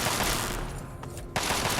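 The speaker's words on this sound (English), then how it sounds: "And somebody's firing." Gunfire in Fallout 3, a dense rattling burst of rapid shots that pauses briefly and then resumes just as heavily, fairly loud against the game's background.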